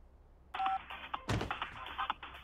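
A cartoon mobile phone plays a short electronic ringtone as tones are tried out, a bright beeping melody burst followed by a thump and clattering handling noises, close and fairly loud.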